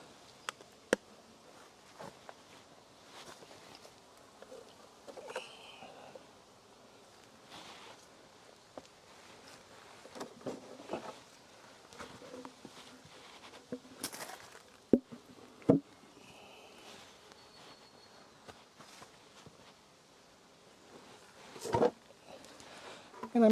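Honey bees from a split hive buzz faintly and intermittently while frames are shifted, with soft wooden knocks, scrapes and occasional sharp taps from handling the hive equipment.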